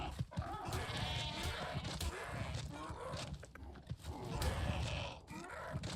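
Sheep bleating in the video game Ark Survival Ascended, a dense cluster of loud, rough bleats and grunts layered over one another, close and continuous with no talk.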